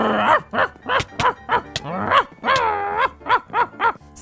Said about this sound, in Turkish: Rüzgar'ın köpeği bayıldı ve Arda'nın köpeği kazandı